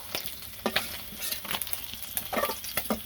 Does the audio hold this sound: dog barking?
no